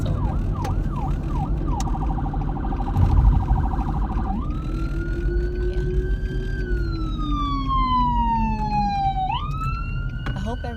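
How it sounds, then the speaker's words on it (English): An emergency siren wails nearby, shifting from rapid yelping to long rising and falling tones over steady traffic noise. "I think that's like an ambulance or fire ambulance"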